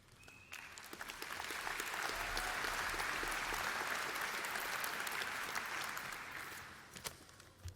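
Graduates and guests at a winter graduation ceremony break into sustained applause, many hands clapping together, swelling quickly and then tapering off near the end.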